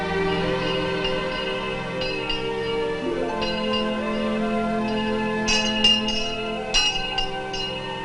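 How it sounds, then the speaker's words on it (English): A bell rings with several sustained, resonant strikes that overlap and ring on, moderately loud with no voices. "The bell is sounding and it's time to go."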